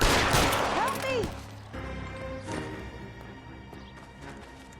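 Gunfire from the game L.A. Noire: a loud burst of overlapping shots at the start, then a few scattered, fainter reports and echoes that fade out, with a voice faintly present.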